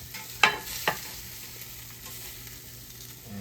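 Fish frying in a pan gives a steady, close sizzle, with two brief sharp clinks of a utensil early on, then the frying hiss continues alone.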